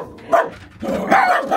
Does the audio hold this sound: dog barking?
yes